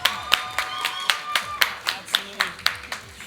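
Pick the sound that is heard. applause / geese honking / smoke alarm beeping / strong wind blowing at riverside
applause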